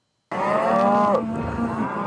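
A cow on a cattle ranch lets out a single loud, close moo that rises sharply from silence, bends downward, and trails off into a lower, fading groan.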